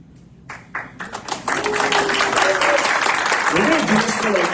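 Graduation audience breaking into applause, a few scattered claps at first that swell within about a second into loud, sustained clapping, with a voice speaking faintly over it.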